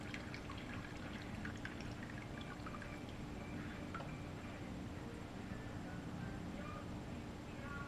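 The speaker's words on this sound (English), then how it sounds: "see how that water's coming out?" Whey water drips and trickles from homemade Mexican white cheese being squeezed by hand, a faint steady patter under a constant background hiss, with no talking.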